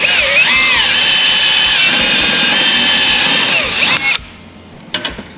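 A power drill whines loudly and steadily through the metal of a 1969 Dodge Dart for about four seconds, then stops, followed by a couple of brief clicks and knocks.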